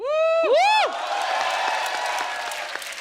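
A studio audience on a comedy talk show breaks into broad, sustained applause with some cheering, following a short musical sting; the clapping stays steady and fairly close.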